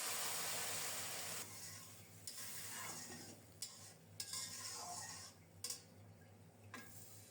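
Boiling hot water hits a pan of fried spices and eggplant, giving a steady sizzle with stirring and a few clinks of utensils against the pan. No voices are heard.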